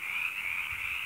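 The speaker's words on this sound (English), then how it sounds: "Can you hear those frogs?" Frogs croaking in spring, a dense continuous chorus of high trilling calls, loud and steady without any talking.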